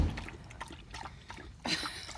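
Water trickles and glugs as it is poured from a bottle beside a parked car after a nature walk, a soft continuous stream with a louder splash near the end, and no talk over it.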